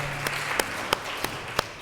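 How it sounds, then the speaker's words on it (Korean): A church congregation gives a short burst of applause during a Sunday worship service: a handful of distinct, sparse claps ring out in a reverberant hall, moderately faint, with no talking over them. "하나님께 영광의 박수 올려드리겠습니다."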